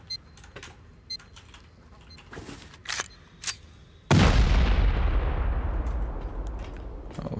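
A single loud C4 charge detonates in a video game to breach a wall, a sudden broadband blast with a long rumbling decay after several faint earlier pops and clicks.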